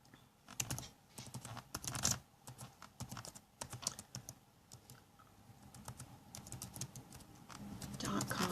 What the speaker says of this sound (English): I'm just going to type this in real quick.